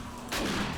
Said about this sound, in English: Let's try out the shotgun.